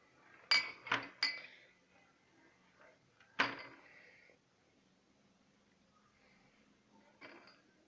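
Honey, cumin, cinnamon and olive oil get mixed in a bowl, with a few quiet clinks of utensil against the dish and soft scraping in between, close and faint.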